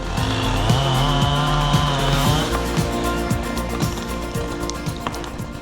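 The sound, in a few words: chainsaw running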